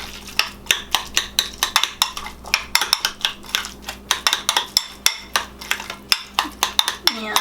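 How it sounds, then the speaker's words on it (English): Chicken fajitas with garlic powder and cumin tossed in a dish, producing loud, close, rhythmic clinks and scrapes of a utensil against the container, repeating steadily. "mix that bitch up."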